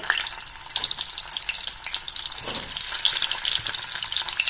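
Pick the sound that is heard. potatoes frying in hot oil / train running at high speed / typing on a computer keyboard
potatoes frying in hot oil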